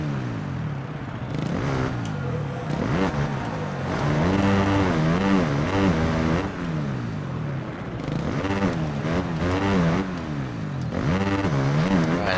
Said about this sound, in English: Maxing out on the revs.